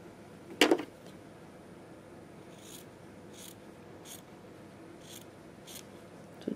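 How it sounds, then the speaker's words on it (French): Scissors snip the corners off quilt fabric, a single crisp close cut followed by faint, soft rhythmic rustling of the cloth in a quiet room. "Alors, je vais couper."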